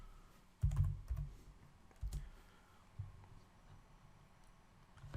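Soft, scattered keystrokes on a computer keyboard during work in Blender, a few clustered taps followed by isolated presses, quiet and close with no talking.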